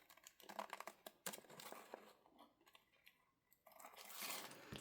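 Trimming a card for a large altered card, with close, crisp crinkling and crunching paper sounds in irregular bursts and brief sharp cutting snips.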